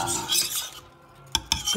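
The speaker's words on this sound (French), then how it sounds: "On remue, on lâche rien." A utensil scrapes and swirls through a thick mixture in a saucepan over medium heat, with a couple of sharp knocks against the metal, close up.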